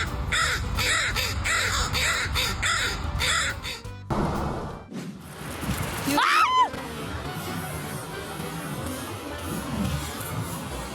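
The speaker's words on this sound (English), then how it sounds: "Crows are opportunistic omnivores." A crow caws loudly and close in a few harsh, rising calls, preceded by a run of rhythmic clattering sounds and followed by quieter background noise.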